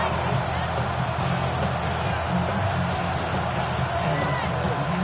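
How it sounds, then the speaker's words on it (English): A football stadium crowd roars in a sustained, dense wash of cheering that holds steady at a distance, with no break in the noise. "This crowd turning up the decibel level."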